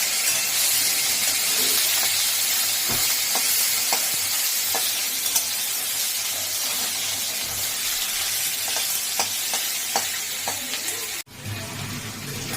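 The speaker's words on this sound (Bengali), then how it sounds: "মা যে কড়াই বসিয়ে তেল দিয়ে তার মধ্যে আদা ঘষে দিয়েছে, আদাটা, তেজপাতা আর কাঁচা লঙ্কা ফোড়ন দিয়ে এই এখন কষাচ্ছে" Grated ginger, bay leaf and green chillies sputter as they are stir-fried in oil in a kadai, a loud, continuous sizzle with occasional scraping stirs and a brief break near the end.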